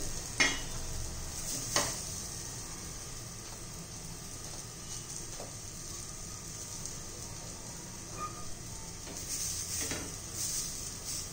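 Rava-coated bottle gourd slices fry in a pan with a soft, steady sizzle, broken by a couple of sharp utensil clinks and light scraping as pieces are placed down.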